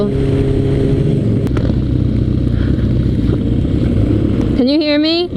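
Loud, steady engine rumble of a motorcycle ride with wind buffeting, and near the end a rising revving whine as the bike accelerates; voices talk faintly underneath.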